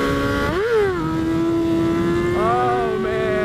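A Yamaha R6 sport motorcycle engine revving close up, with a high whining tone that climbs, drops, then holds steady and climbs again, loud and alone.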